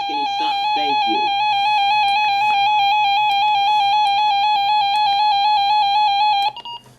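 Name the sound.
weather radio siren test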